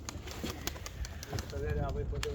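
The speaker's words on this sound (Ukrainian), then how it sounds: "Хороший голубець" Serpasti pigeons being trained coo softly while a few brisk wing flaps flutter close by, all under steady conversation between men.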